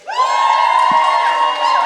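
An upstairs audience at a poetry jam erupts in loud, sustained cheering, whooping and high-pitched shouting that holds steady after a sudden start.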